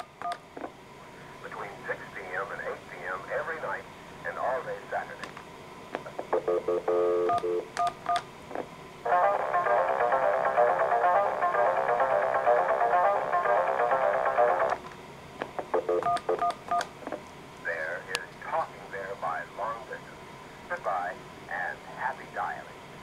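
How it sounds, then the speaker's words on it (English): A Centrex telephone line dialing the call hold code with DTMF tones: a string of short touch-tone beeps, then a long steady tone, then more brief beeps. Close and clear, with a person talking before and after. "I can dial the call hold code again."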